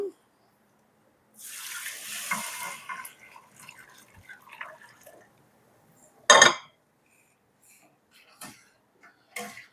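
Water splashes and trickles into a pot of rava for mango kesari for a couple of seconds, followed by quieter clinks and scraping, then a sharp brief burst of stirring.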